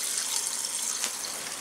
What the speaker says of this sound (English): So, let me just turn the tap off.